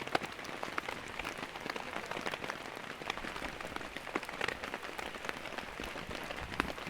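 Heavy rain pours down steadily, a dense continuous hiss full of crackling patter and drops, with no voices.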